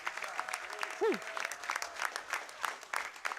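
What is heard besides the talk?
audience applause and claps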